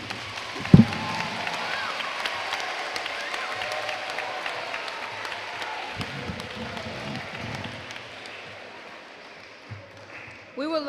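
An audience at a school Black History celebration claps in sustained, fairly distant applause after a speech, a steady wash of hand claps with a few louder thuds.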